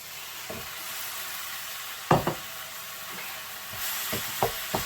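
Minced keema meat sizzles steadily in a hot pan, with a few sharp scraping stirs of a utensil breaking through the continuous frying hiss, close and alone without talk.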